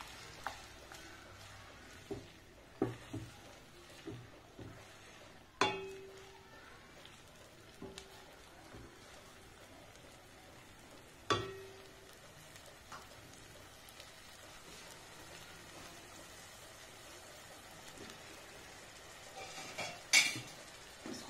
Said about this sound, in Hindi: इस अदरक लहसुन के पेस्ट को अच्छी तरह से मीडियम फ्लेम पर ब्राउन होने तक अच्छी तरह भूनना है।